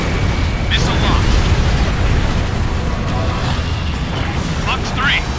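Missile explosions in the video game Ace Combat Infinity, a dense rumbling boom texture with bursts under continuous engine noise, loud and sustained, with a radio voice speaking over it.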